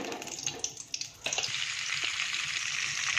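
Butter and oil hitting a hot pan for paneer butter masala, opening with a few clinks and taps, then settling into a steady, close hiss that carries on to the end with no voices.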